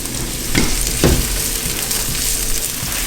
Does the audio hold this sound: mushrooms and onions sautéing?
yes